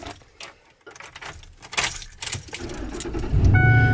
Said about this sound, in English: Put the key in.